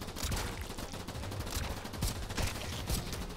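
Rapid shotgun blasts in the base-defense video game Idun, a dense run of loud overlapping shots forming a steady barrage with no voices.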